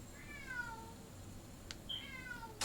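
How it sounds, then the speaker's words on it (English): A pet cat meows twice in the background of a room, each call a drawn-out, falling cry, the second slightly louder, followed by a brief clatter at the end. "I hear my cat in my background."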